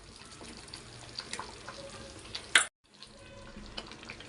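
Paneer pieces dropped into a pan of simmering gravy, a soft frying sizzle with light stirring, one sharp clatter, then a moment of silence before the gentle bubbling resumes.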